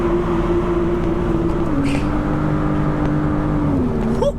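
A BMW M2 engine with a VSRF sports catalytic converter exhaust drones steadily at a constant, loud level, its pitch holding and then dipping slightly before a brief rise at the end.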